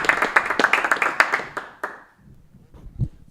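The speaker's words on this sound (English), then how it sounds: "Big round of applause for your hometown hero." A short burst of clapping and applause from an audience, dense at first, then thinning out and fading within a couple of seconds.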